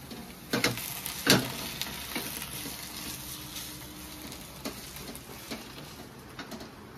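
Mustard oil spooned over hot chichinga (snake gourd) bhorta with a slit green chilli gives a faint, soft sizzle broken by a couple of sharp crackles early on.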